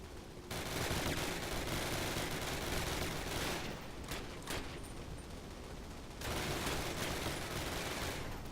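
Machine gun nests in the war shooter game Call of Duty pour out loud, dense automatic fire in long sustained bursts, easing briefly midway before the rattling volleys resume.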